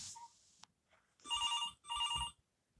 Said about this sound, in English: That's the sound a telephone makes.